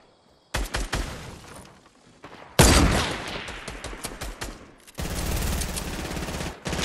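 Bursts of Fortnite gunfire ring out in a fast game fight: scattered shots at first, then a loud, sustained volley of rapid automatic fire, and finally a dense steady rattle of shooting that runs to the end.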